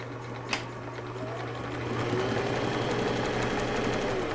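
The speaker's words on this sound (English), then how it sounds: "So I'm going to go ahead and do a zigzag stitch on the hem." A sewing machine runs a zigzag stitch along a turban hem, a steady fast mechanical whir with a soft tap near the start, fairly quiet and close, without voices.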